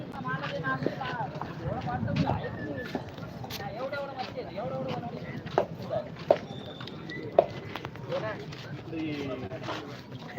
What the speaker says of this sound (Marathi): माधूला घोडा घेऊन द्या